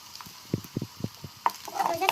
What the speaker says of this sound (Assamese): আদা নহৰুটো কেঁচা গেলটো অতি গোন্ধটো যোৱালৈকে অলপমান ভাজি ল'ম